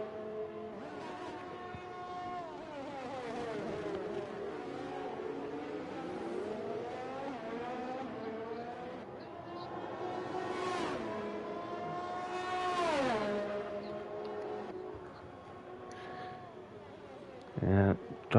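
On-board engine of a Formula 1 AlphaTauri car on medium tyres in a racing video game, revving up and down through gear changes at steady volume, with commentary voices talking over it throughout.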